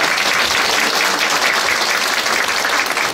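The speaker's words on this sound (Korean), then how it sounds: "한번 더 큰 박수 부탁드리겠습니다." Members at a People's Party meeting in the Daegu city chapter applaud loudly and steadily, a dense wash of many hands clapping with no break.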